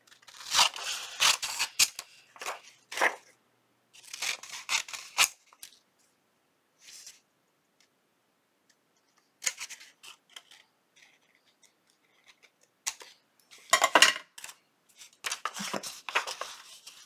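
Scissors snipping through paper in several close bursts of quick cuts, separated by short quiet pauses.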